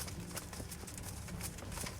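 Horse in the video game Kingdom Come: Deliverance, with steady clip-clop hoofbeats on a continuous bed of game ambience, moderately loud and unbroken for the whole stretch.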